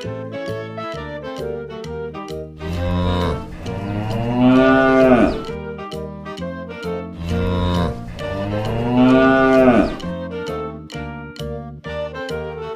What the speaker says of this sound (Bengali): গ গয়ে গরু বাছুর দাঁড়িয়ে আছে।